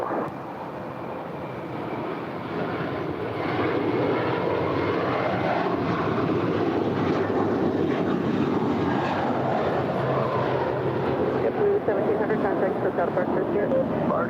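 An airliner takes off from runway 25 right at LAX, its jet engines building into a steady, loud roar that swells and holds throughout; a voice talks over the engine noise.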